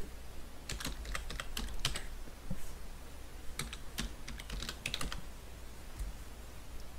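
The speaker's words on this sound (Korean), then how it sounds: "검색창에서 털린 내 정보 찾기를 입력합니다." Keys tapped on a computer keyboard while a search query is entered into a web browser's search box, in quick irregular bursts with short pauses, fairly close and clear over a steady low background hum.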